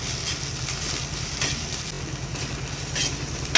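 Green chili and garlic fry in a hot pan as they are stirred, a continuous close sizzle with light scraping movement, alone without talk.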